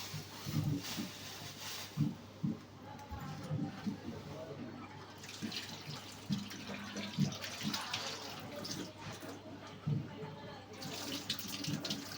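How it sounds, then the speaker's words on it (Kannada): A tap runs with water splashing and trickling at a low, uneven level, while people talk quietly over it and occasional clatters break through. "ನೀರು ಸೌಂಡ್ ಬರೋದು"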